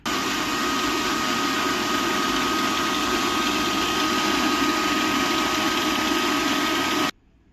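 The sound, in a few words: mixer grinder blending coconut and raw mango with water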